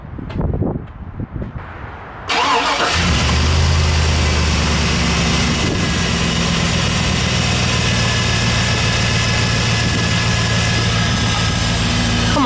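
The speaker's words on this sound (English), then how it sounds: "Try to give this thing a start." A 2001 Chevy Tahoe engine cranks and fires after a short quiet stretch with wind noise, then settles into a steady, close, rumbling idle that runs on alone.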